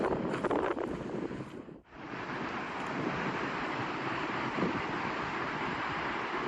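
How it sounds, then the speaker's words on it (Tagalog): Strong wind at a lighthouse in Taiwan roars steadily into the microphone, a loud, constant rumbling buffet that briefly drops away before surging back. "Sobrang lakas mo ng hangin."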